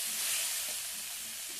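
Washed, chopped taro leaves hiss and sizzle steadily in a hot pan with fried crab while being stirred, a close, even frying sound with no voices.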